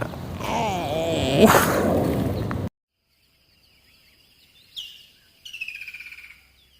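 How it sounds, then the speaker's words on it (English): Birds chirp in a corn garden in mid-June: a few short, high calls come later and stand apart against near silence. A burst of louder, broadband noise comes before them. "The birds are eating all my corn."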